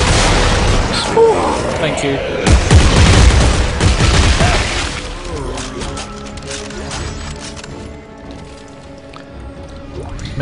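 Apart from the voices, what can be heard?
automatic weapon fire in Dead Space 3 video game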